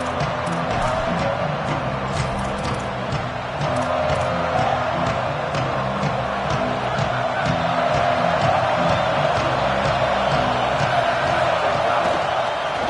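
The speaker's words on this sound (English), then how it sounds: "this place is rocking. Night games are always so loud, so obnoxious, and these fans, they get something to cheer about" A loud stadium crowd in a college football video game roars and cheers steadily at a night game, a dense wash of crowd noise that holds for the whole stretch.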